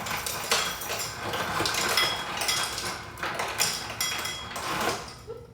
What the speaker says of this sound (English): So instead, I'm gonna actually stir the cocktail